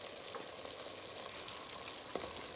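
Freshly grated ginger and onions fry in a pot for chicken stew, giving a steady, close, loud sizzle with a few small pops and clicks.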